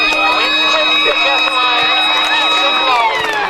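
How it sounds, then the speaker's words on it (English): A long, steady final siren at a football match wails over a noisy crowd, holding its pitch before sliding downward as it winds down at the end. "as the final siren sounds here at the camp reserve"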